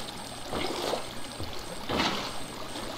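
Flowing water in the Minecraft video game, heard as two soft, broad splashing pours in a steady stream that rise and fall, with no talk over them.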